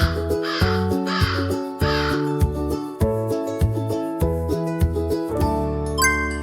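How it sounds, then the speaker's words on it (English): A crow caws three times in quick succession, loud and near, over a tinkling, chiming music backing that carries on after the calls stop. "Crow! Great job!"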